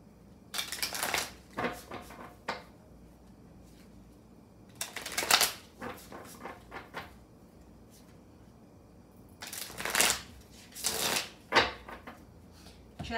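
Tarot cards being shuffled during a reading, several soft riffling bursts and taps that come in scattered clusters separated by quiet pauses, close and fairly faint.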